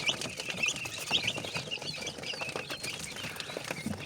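Young quail chicks scramble and flutter together over boiled egg, giving a dense, steady patter of tiny wingbeats and scratching, with faint high peeps close by.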